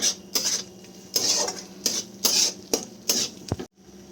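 A spoon scrapes and clanks rhythmically in a pan as mushroom masala with turmeric is stirred, giving about five close strokes with light sizzling between them and no talking.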